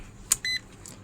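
A multimeter on its continuity buzzer setting gives a short, clean electronic beep across a short circuit on an outdoor unit board, a single brief tone in near silence.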